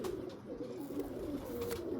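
Teddy pigeon cooing steadily at close range, a low soft burbling coo that runs continuously through the moment with small swells in loudness.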